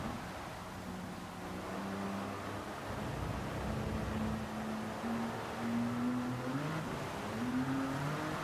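A race car in Gran Turismo 7 drives through heavy rain at Spa, a steady engine drone with gliding pitch changes as it accelerates and shifts, over a continuous wash of rain noise.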